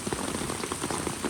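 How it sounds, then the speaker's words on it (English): Heavy rain pattering steadily onto a gutter cover, a dense, close hiss of drops with slight rhythmic splashes throughout. "The rain's coming down at a pretty good clip"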